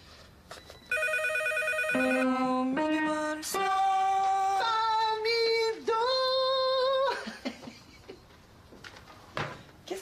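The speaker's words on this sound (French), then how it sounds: "le téléphone qui arrête pas de sonner." A telephone rings repeatedly indoors in a TV sitcom scene, a series of loud electronic ring bursts with short gaps, followed by quieter household sounds and faint noises.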